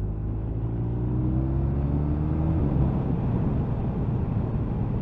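A 2022 BMW R1250RT motorcycle engine accelerating hard with a quick shifter: a loud, rising growl, then a sudden upshift partway through, and a steady throaty roar with wind rumble afterward.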